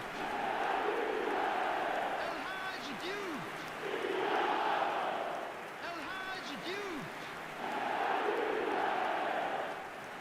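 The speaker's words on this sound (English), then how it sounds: "the crowd are reacting to that now" A stadium crowd in the football video game eFootball roars in broad swelling waves, a steady distant rumble rising and falling over ten seconds while a commentator talks over it.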